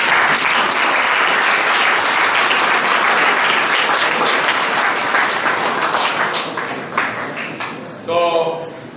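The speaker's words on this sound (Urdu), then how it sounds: "تو ان کے لیے بھی تالیاں" Dense, loud audience applause fills a gathered hall at a Ramadan darbar event, steady for most of the time and then thinning toward the end as a voice begins speaking over the last claps.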